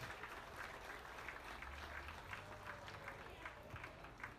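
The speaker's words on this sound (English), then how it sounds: "Let's give those kids a nice round of applause." Audience applause at a youth sheep market show, honoring the young exhibitors after a tough class; steady, fairly faint clapping from a crowd carries on throughout with a soft murmur underneath.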